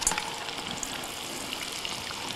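Fish pieces frying in an electric deep fryer, a dense, even crackling sizzle of bubbling oil, steady and moderately loud throughout.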